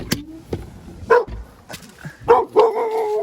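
A dog barking outdoors beside a 2000 Dodge Neon ES, several sharp barks and yips at irregular intervals, fairly close and loud, with a few whimpering tones between them.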